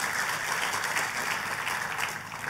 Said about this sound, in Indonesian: Boleh katakan amin dan tepuk tangan yang paling meriah buat Tuhan kita.